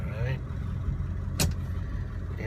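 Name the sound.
Ford diesel truck engine pulling away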